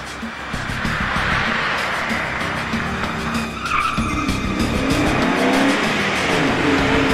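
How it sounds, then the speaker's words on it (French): A metallic grey Cosworth car speeds past with screeching, skidding tires and a revving engine, loud and close throughout a tense action scene. "Une Cosworth grisée métallisée, chef. Elle passe pour la deuxième fois."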